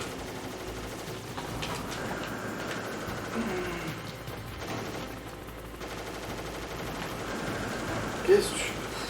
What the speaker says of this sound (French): Il tire dans la rambarde.